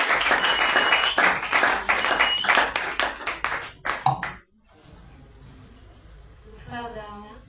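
Church congregation at a Purim service clapping: dense, loud applause for about four seconds that stops abruptly, leaving a quiet room with a thin high whine.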